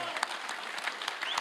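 Faint, brief applause from an audience at a ham radio convention, scattered claps heard at a distance.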